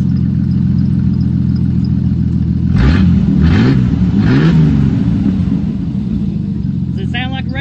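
A Jeep Cherokee XJ engine with its muffler cut off idles with a loud, raw rumble, then revs sharply three times in quick bursts before settling back, heard up close.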